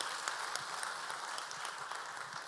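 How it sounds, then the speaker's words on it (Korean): Applause from the audience at a 2016 fashion forum in Korea, faint and somewhat distant, a continuous even wash of many hands with a few sharper claps poking through. "우리 준비해 주신 분들께 다시 한번 큰 박수 이 팀장님 보내주십시오"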